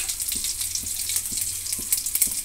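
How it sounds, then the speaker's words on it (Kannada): Mustard seeds sizzling in hot oil for a tempering while cooking bitter gourd sambar, a steady crackling hiss with a few soft pops, close and fairly quiet, no voices. "ಒಗ್ಗರಣೆಗೆ ಸಾಸಿವೆ ಹಾಕ್ತಾಯಿದ್ದೀನಿ."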